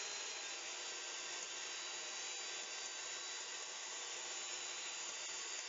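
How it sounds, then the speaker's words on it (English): Heavy whipping cream, 260 grams, being whisked in a bowl for chocolate porter ice cream, a constant close whirring, buzzing rush that runs evenly from start to finish with no voices. "Then we need to whisk that all up, give it a nice smooth texture."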